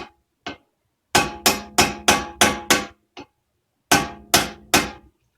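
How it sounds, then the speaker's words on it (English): A small ball peen hammer taps the spring on a brake caliper of a 1998 Jaguar XJR front brake: two isolated knocks, then a quick run of six sharp metallic strikes, one soft tap, and a final three, close and crisp with no talk. "I get a little ball peen hammer and just make sure that they're all the way in here"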